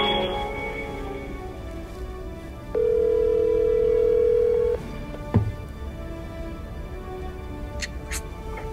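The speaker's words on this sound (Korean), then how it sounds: "쇼타로에게 한번 전화를 해보겠습니다." Telephone line sounds during an outgoing call: a steady dial tone holds for about two seconds, followed by a click and faint line noise, with no one speaking.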